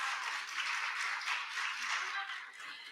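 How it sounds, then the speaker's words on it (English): A round of applause from an event audience, steady dense clapping that holds at an even level throughout, moderately loud and slightly distant with no talk over it. "Can we give a big round of applause to the men that are here?"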